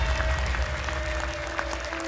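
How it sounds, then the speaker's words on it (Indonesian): A studio audience at a televised Quran memorization challenge show claps steadily in a dense, even wash of applause, fairly loud and continuous with a faint steady tone underneath. "Buat tepuk tangan untuk Desova"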